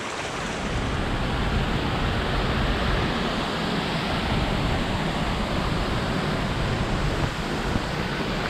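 The Pozo Azul waterfall near Minca roars steadily nearby, a thick, constant rush of falling water that fills the whole stretch without a break and with no voices.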